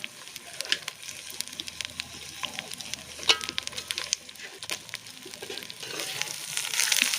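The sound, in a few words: stirring country chicken frying in oil with spices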